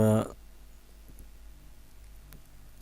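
A computer mouse clicks once while selecting a page size in MS Word 2016, a brief, faint tick after a moment of speech, with a few softer ticks scattered through a quiet room.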